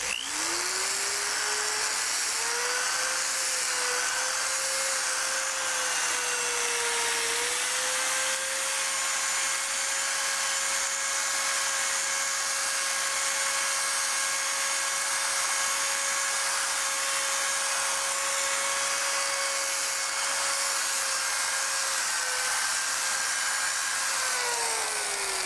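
Steady electric sanding of a Smart ForTwo plastic headlight lens with 800 grit paper, a continuous close whine holding one pitch for most of the stretch, rising at the start and falling away at the end, with no talking.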